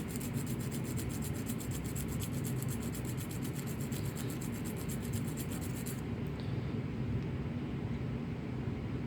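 Close, continuous abrasive rubbing as the tip of a Starrett No. 559B pocket screwdriver is sanded through successive sandpaper grits, a steady dense scraping that loses its bright edge near the end.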